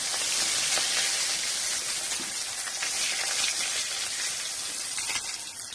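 Pomfret fish fry in hot oil with a steady, dense sizzle that crackles continuously at close range, with no voices over it.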